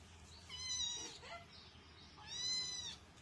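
A cat meows twice, a close, fairly quiet, drawn-out call near the start and a second one a second and a half later, over a faint indoor background.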